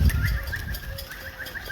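Pigeons coo in soft, repeated calls close by, heard alone over a low rumble in a bird loft.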